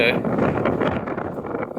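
Strong wind at Colorado National Monument buffets the microphone in a continuous rough roar, steady and loud throughout.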